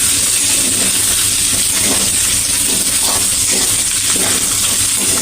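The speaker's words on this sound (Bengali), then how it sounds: "এখন এর মধ্যে আমি একটুখানি জল দিয়ে দেব।" Water poured into a pan of frying vegetables sends up a loud, steady hiss of steam that fills the whole clip, with faint clinks and bubbling underneath.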